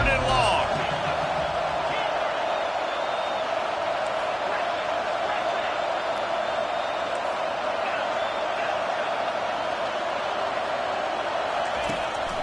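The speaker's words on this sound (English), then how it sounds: "Here comes the crowd trying to make it tough on 3rd and long." Steady roar of a large stadium crowd at a college football game between Oklahoma State and Notre Dame, loud and sustained on a third-and-long play, with a commentator talking over it.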